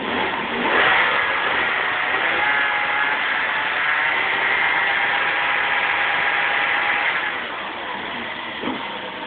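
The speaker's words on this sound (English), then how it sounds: "I'll just rev it a bit so you can see." A Vauxhall Senator 3.0 24v C30SE engine being tested is revved from idle. It climbs sharply to a sustained, droning high-rev hold for several seconds, then falls back to a quieter idle, heard up close.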